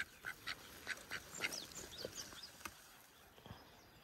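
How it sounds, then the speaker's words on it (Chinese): A duck quacks in a string of short, nasal calls spaced irregularly over a few seconds, fairly faint against quiet outdoor background noise, with no talking. "把这个鸭子带回去"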